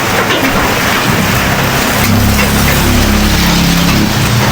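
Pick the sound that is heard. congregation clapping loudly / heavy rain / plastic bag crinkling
heavy rain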